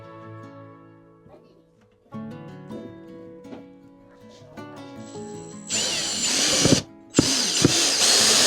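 A power drill drives screws into the bottom of a shelf, bursting into loud, sustained whirring runs in the latter half, broken by a short pause, after quieter handling noises and some speech.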